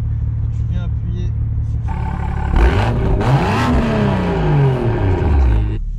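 A BMW M2 engine revs hard on a drive through the Bois de Boulogne, its pitch sweeping up and down in loud rising and falling pulls, heard from inside the car.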